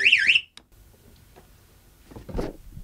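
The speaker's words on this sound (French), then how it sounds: "Main sur les buzzers." A quiz game show buzzer on a French religious-themed broadcast goes off at the start, a loud warbling electronic tone lasting under half a second, followed by quiet room sounds and a brief thump.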